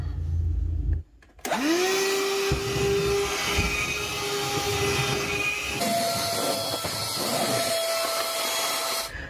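Dremel rotary tool roughing up a wading staff: a high, steady motor whine that spins up after a short pause, then grinds continuously with a rough, buzzing scrape as the bit works the surface.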